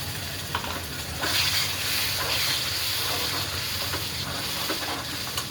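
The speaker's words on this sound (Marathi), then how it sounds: "ते थोडंसं टाकून घेते गरम पाणी" Hot water poured into masala of red chilli powder and black spice frying in a pan, a dense bubbling sizzle that swells and stays loud, with faint clinks of a utensil and no talk.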